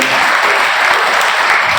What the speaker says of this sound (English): So please, a round of applause for everyone here